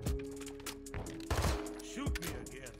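Gunfire in Call of Duty Modern Warfare 2, several bursts of automatic shots with a steady electronic hum underneath, under faint voices.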